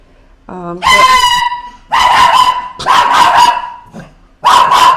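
Loud, close dog barking in a few long, strained yelping bursts separated by brief pauses.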